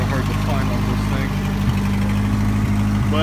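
A 1984 Dodge Daytona Turbo Z idling smoothly, a steady low engine hum with a few faint knocks and no talking over it.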